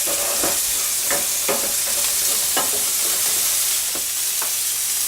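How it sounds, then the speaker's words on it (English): Cabbage being stirred in a hot, steamy pan, a constant loud sizzle and hiss with several sharp scraping strokes of the spoon spaced through it. "Just give the cabbage a stir while that's going."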